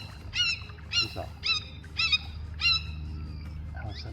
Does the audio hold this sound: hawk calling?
yes